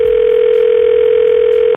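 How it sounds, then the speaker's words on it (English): A telephone dial tone sounds as a single steady, loud, unbroken hum that continues alone and then cuts off abruptly. "Time to make a prank phone call."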